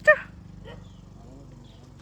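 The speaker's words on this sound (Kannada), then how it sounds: "ಹಿಂದೆ ನಾಯಿ ಬರ್ತೈತೆ" A single short dog bark near the start, then a low steady hum with faint noise; no further barks follow.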